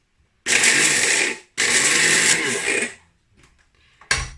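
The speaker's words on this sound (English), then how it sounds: "I'm just gonna add it to my spice grinder here. So I'm just gonna give this a blitz." Electric spice grinder blitzes wild garlic into a vegan parmesan mix: two loud, harsh whirring bursts, about a second each and separated by a brief pause, then small rattles and a final short pulse.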